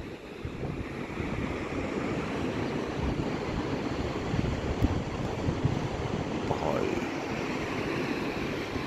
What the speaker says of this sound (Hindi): बहुत ही शानदार जल का प्रवाह देखिए